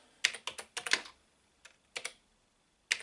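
Keys tapped on a SAM Coupé home computer keyboard, a few sharp clicks in a quick cluster followed by scattered single presses with pauses between, close and alone.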